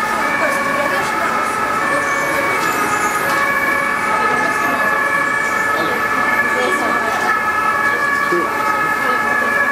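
A fire engine siren on a Miniatur Wunderland model layout wails continuously and loudly with a steady tone, over a faint bed of traffic-like noise.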